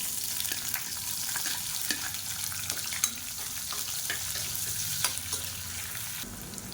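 Steady crackling sizzle of finely chopped small shallots frying in hot oil for a Tamil poricha kuzhambu, with a few sharper pops and stirring clinks over continuous spitting.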